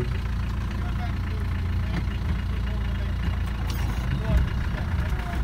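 Off-road vehicle engine pulling away in second gear, a loud steady low rumble close by with little change in pitch throughout.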